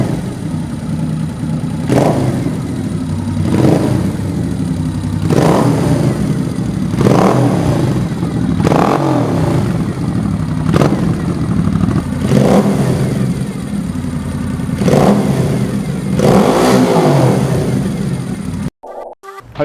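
A Moto Guzzi V7 motorcycle engine idles with a throaty pulse and is revved about eight times in a steady rhythm, each loud blip rising and falling close to the listener before cutting off abruptly.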